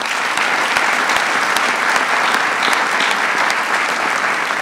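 A crowd at a National Defense Authorization Act signing event applauds members of Congress with steady, dense clapping that continues evenly throughout, loud and close with no voices over it.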